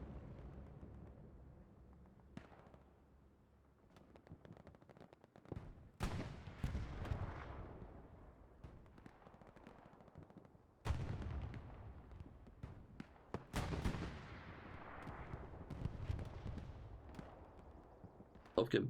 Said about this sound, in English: Artillery from Flow still doing a lot of damage.